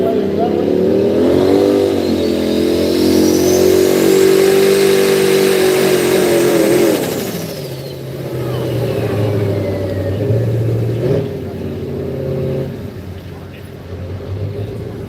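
A pulling truck named Old and Hostile at the Jackson County Fair truck pull in Black River Falls, its engine roaring loud and sustained, pitch climbing and holding before dropping off as the run ends, with announcer talk underneath.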